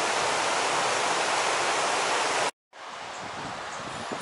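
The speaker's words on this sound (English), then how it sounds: "The two streams come together, more water in it this time." Two streams of flowing water join near Capel Curig, giving a steady rushing roar that cuts out briefly to silence, then resumes slightly softer and more distant.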